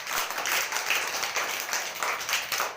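Children in a classroom clap their hands during a passing-the-parcel game, a soft, somewhat scattered series of claps at moderate distance with no clear talking.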